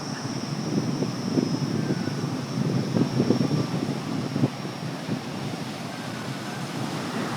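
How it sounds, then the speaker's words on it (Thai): Wind blows strongly across an open beach at Bo Dan in Phang Nga, a steady blustery rumble with gusts buffeting the microphone, and the sea's surf is faintly present underneath. "ลมฉ่ำมาก"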